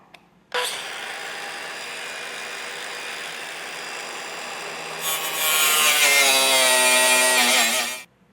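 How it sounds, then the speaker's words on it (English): A cutoff wheel spins up and grinds through a plastic bumper core during a base plate installation, a sustained whining buzz that turns harsher and louder midway before stopping abruptly. "I'm just going to come through with a cutoff wheel and just make our quick cut"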